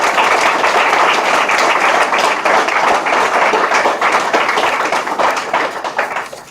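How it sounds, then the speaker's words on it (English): An audience at a student center dedication ceremony applauds loudly and steadily for several seconds before the clapping fades out at the end. "Let's give a good round of applause."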